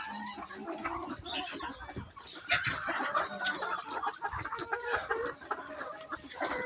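Free-range local hens cluck busily at close range while being fed leftover matoke, with overlapping calls and a louder burst of clucking midway and no talking.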